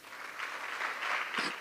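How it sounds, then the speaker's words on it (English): Faint, brief applause rises from an audience at an agricultural incentive grant distribution ceremony, a soft wash of clapping lasting under two seconds. "That deserves a round of applause."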